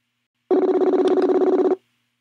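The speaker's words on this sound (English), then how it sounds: "Oh, it's ringing. Come on, answer." A single electronic ringing tone from a phone line, one buzzy pulsed burst of about a second, then silence.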